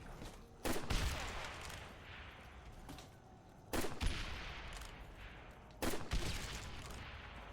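Grenade launcher fire in Call of Duty Black Ops zombies mode, heard as three separate booming shots spaced a few seconds apart over a low rumbling background.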